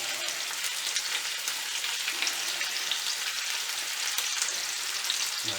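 Floured chicken pieces fry in olive oil for pollo con piñones, giving a steady close crackling sizzle with fine popping spatters throughout and no voices.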